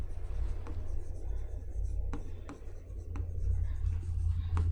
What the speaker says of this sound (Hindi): एक मिनट मैं यहाँ लिख देती हूँ